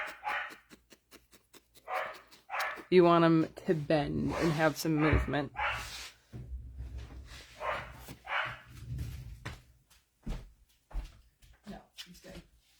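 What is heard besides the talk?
dog barking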